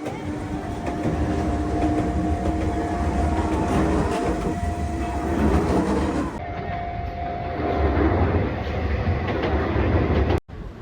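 A train rumbles past nearby in Kamakura, a steady loud roll of wheels and track noise that shifts midway and cuts off abruptly near the end.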